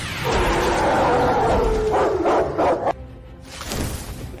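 A three-headed hellhound in a fantasy short drama gives a loud, drawn-out snarling bark and roar, followed by a few sharper growling bursts, then quieter rumbling.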